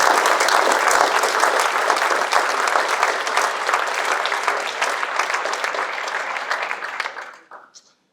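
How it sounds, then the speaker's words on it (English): Loud audience applause at a generosity celebration evening, dense sustained clapping from a large crowd that holds steady for about seven seconds, then quickly dies away. "give him a round of applause because he is a good man"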